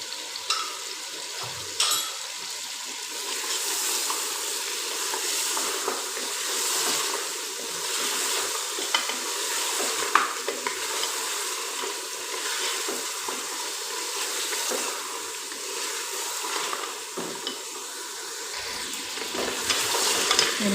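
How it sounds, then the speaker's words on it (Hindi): Onions and masala fry in a pan for paya curry, a continuous loud sizzle with frequent scraping and clinking as a spoon stirs them throughout. "इनको चम्मच के साथ हिलाते रहना है, मसाला नहीं जले"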